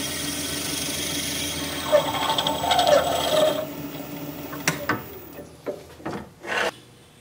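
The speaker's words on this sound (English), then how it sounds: "let me get this sanded up" Rough rasping of sandpaper against spinning wood, steady then breaking into short scrubbing bursts near the end, close and fairly loud.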